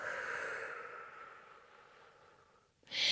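A long, soft breath is exhaled steadily and fades out during a Pilates exercise, followed by a brief sharp intake at the end.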